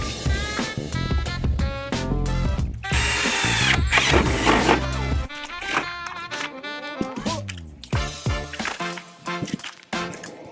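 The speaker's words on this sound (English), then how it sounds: "I'm gonna drill a starter hole with the drill" A power drill bores a starter hole through a camper van roof for a Maxxair fan install, its motor whining loudly with rising and falling pitch, pausing and revving up again in several bursts.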